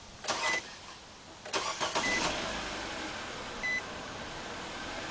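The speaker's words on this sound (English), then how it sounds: "Alright, let's start this car up." A 2013 Nissan Sentra with a 1.8 engine that runs rough from a cylinder 1 misfire cranks and starts close by, with a couple of short chime beeps, then settles into a steady idle.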